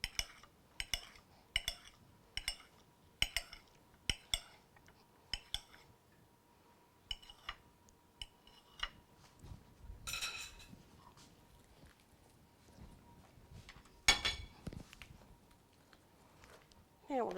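A knife chops fruit for a Mexican fruit salad on a board, making a quick run of sharp, close taps at first and then scattered clinks and knocks as a person talks.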